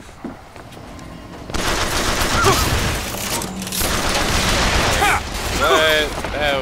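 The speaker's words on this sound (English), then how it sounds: "the weakest RPG I've ever seen" An RPG rocket launcher fires and explodes in the BioShock Infinite shooter game: a quiet stretch breaks into a sudden loud blast, followed by a sustained roaring, crackling rumble with scattered whistling chirps and gunfire-like bursts near the end.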